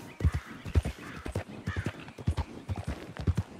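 Rhythmic horse hoofbeats clop in a quick, uneven galloping pattern in Red Dead Redemption 2, close and fairly clear, with no talking.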